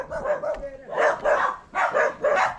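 A tied-up dog barks repeatedly in quick bursts, fairly close, on a farm lot in Bulacan, with a person's voice briefly in the background.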